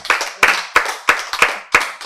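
Sharp hand claps ring out in a loose, regular rhythm, about six or seven distinct slaps close by, sounding more like one person clapping than a crowd's applause.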